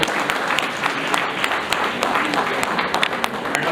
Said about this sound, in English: So one round of applause for all the.